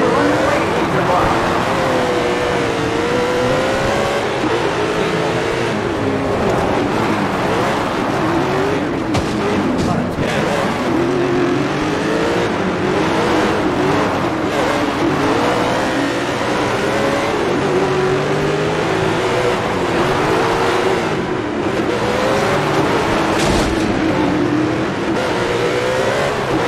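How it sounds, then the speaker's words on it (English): Race car engines roar and rev continuously in the SRX racing video game, a loud, dense engine drone with shifting pitch as cars accelerate, with a voice talking over it at times. "Listen to the engines as we get ready to go."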